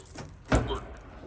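The crunched driver door of a NASCAR Pure Stock race car is pulled open, giving a single dull metallic clunk with a brief scraping tail. It is fairly quiet against a low background.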